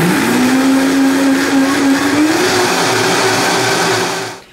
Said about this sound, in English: we're just gonna blend it up real fast